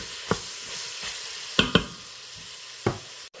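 Italian sausage browning in an Instant Pot, with a soft steady sizzle and a few sharp clicks and scrapes from stirring, close and fairly quiet, no voices.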